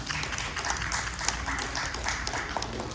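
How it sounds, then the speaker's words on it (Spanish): Applause in a Spanish-language church class, a steady broad wash of clapping from a congregation, fairly loud and continuous throughout without clear gaps. "Den un aplauso aquí a mis hermanos."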